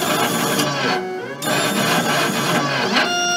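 A laser cutter engraver works on a faceplate, its motion system producing a loud, continuous buzzing whir with warbling tones that dip briefly and resume as the head moves around the piece, with no voices.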